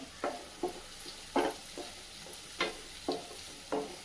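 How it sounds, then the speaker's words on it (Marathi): Chopped onion and tomato with red chilli powder sauté in a pan, the spatula making about eight separate scraping strokes in an even rhythm over a soft sizzle. Close and moderately quiet, with no speech. "आणि आता आपण कांदा आणि टोमॅटो चांगला परतून घेऊया"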